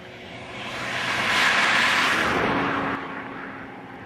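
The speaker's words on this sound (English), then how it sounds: "You guys heard the Doppler shift with that car." A car passes by, its broadband engine and road noise swelling to a peak near the middle and then fading away, with no talk over it.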